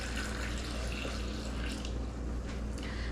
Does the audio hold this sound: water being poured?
yes